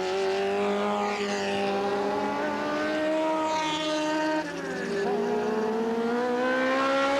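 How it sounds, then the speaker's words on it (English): A historic race car with gearbox problems races past loudly, its engine holding a steady high drone with a brief dip and shift midway before climbing again. "And this is Leffler, going well in spite of his gearbox problems."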